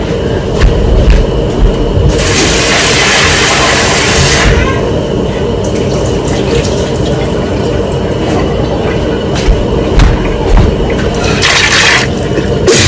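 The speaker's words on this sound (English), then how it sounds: "I'm going to go and wash the peas." Red kidney beans are washed in water with a steady running, splashing wash and bursts of heavier pouring, continuous and close, with no speech.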